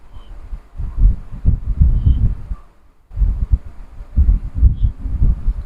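A sewing machine stitches piping onto a kurti neckline, giving a low, rhythmic, throbbing whir in two runs separated by a brief pause.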